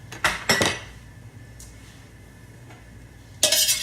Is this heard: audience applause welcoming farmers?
no